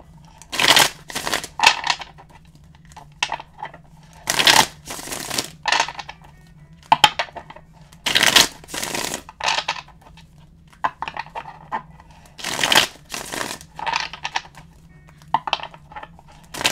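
Tarot cards are shuffled by hand during a reading: repeated short, close riffling bursts separated by brief pauses, heard alone without talking.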